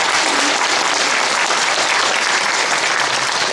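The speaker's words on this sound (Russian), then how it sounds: "давайте аплодисменты поблагодарим." Audience applause at a labour celebration event, steady dense clapping from a crowd filling the space, loud and continuous without a break.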